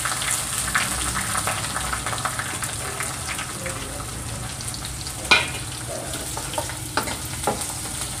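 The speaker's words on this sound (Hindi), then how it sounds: "अब इसको हल्का ब्राउन होने तक हमें पकाना है प्याज को।" Chopped onion and green chillies fry in a pan for a potato curry, a dense close sizzle with intermittent stirring scrapes and one louder clatter partway through, and no speech.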